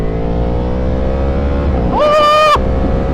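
A Yamaha R1 sport motorcycle with an aftermarket exhaust idles loudly up close, then gets a quick sharp throttle blip that rises in pitch and cuts off after about half a second.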